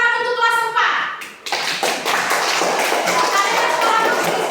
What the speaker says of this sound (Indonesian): tepuk tangan untuk kelas 4